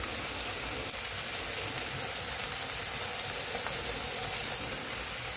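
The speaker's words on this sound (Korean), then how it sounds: "스칼로피스를 구워줍니다." Scallops fry in an oiled pan with a constant, even sizzle and crackle, close and fairly loud, with no talking.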